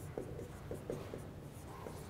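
Marker or chalk writing on a board during a university signals and systems lecture, a run of soft scratchy strokes in short bursts, fairly close in a quiet room with no talking.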